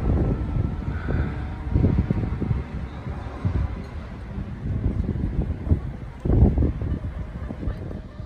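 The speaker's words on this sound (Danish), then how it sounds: "Vinden har økt litt i styrke. Det har begynt å komme litt regn nå." Strong, gusting wind during a storm in Mérida, rumbling low and buffeting the microphone in uneven surges for several seconds, with a louder blast near the end.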